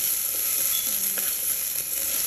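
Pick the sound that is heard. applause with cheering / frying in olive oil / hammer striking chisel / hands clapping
frying in olive oil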